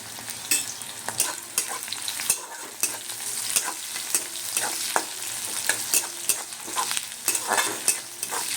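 Chopped onion sizzles and fries in a pan with a little salt while a spoon stirs it, giving steady close scraping and clinking strokes over a constant crackling sizzle.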